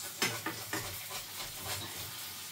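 Fried eggs sizzling flat in a pan, a quiet steady hiss broken by a few light scrapes and taps of a fish slice, close up with no talk.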